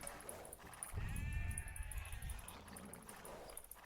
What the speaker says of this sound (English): let's grab these sheep over here.